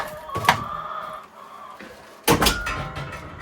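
Chickens clucking and squawking nearby, with a brief pause between two louder bursts of calls.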